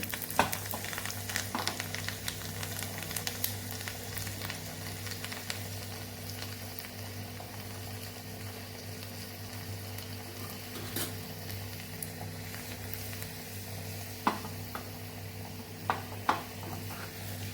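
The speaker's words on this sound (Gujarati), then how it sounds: "લસણની જે કળી સુધારીને રાખેલી એને આપણે ઉમેરી દઈશું અને સરસ લાલ થાય ત્યાં સુધી એને આપણે કાતળી લેવાની છે" Chopped garlic cloves frying in ghee, heard as a steady close sizzle with occasional crackles and a few sharper pops near the end, over a low constant hum and with no talking.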